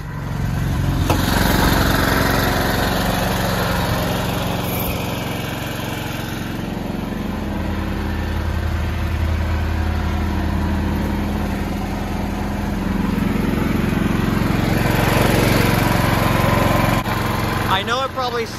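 An Energizer inverter generator runs outdoors with a loud, steady engine drone held close for the whole stretch, with a voice talking over it at times.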